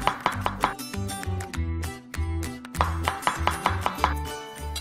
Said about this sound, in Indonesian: Dan kita akan potong bawang bombay dan bawang putih.